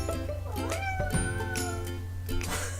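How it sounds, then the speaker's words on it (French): A cat meows repeatedly at close range, drawn-out rising and falling cries over a low steady background hum. "C'est un chat."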